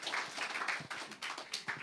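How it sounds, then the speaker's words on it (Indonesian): A small audience at a bookshop event claps in a light, scattered round, the individual claps audible and fairly close, with no talk over them. "Terima kasih tepuk tangan buat Kibo."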